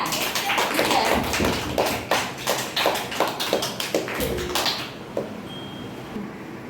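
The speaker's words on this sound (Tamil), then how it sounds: "கை தட்டுங்க" An audience at a prize distribution event in a residential complex claps hands in a dense, steady burst of applause that thins out and fades near the end, heard close and with no talk over it.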